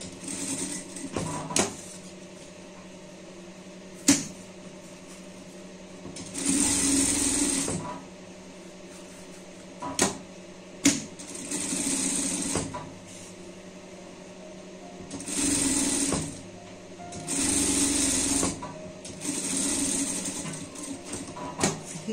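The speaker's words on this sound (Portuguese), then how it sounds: "A gente já passa uma costura de segurança, tá?" A sewing machine runs a safety seam on fabric in several short bursts of rapid whirring stitching, separated by pauses with clicks and handling noises, close and without talk.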